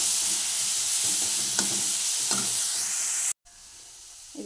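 Eggplant and potato frying in a pan give a loud, close, continuous sizzle with several stirring scrapes, cut off abruptly near the end before a quieter hiss resumes.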